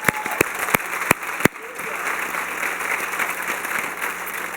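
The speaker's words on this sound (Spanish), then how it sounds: "dale un aplauso al Señor" Congregation applauding during a church service, a dense wash of clapping that follows a few sharp separate claps and carries on steadily at moderate distance without fading.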